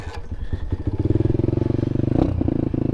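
An SSR125 pit bike engine starts from cold, first a few clattering turns, then a loud, close, rapid thumping idle settling into a steady putter.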